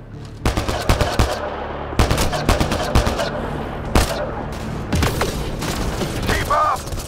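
Rapid gunfire in Mass Effect Andromeda, loud bursts of automatic fire with sharp single shots in close succession, repeated across the whole stretch with brief gaps, a voice talking under the combat.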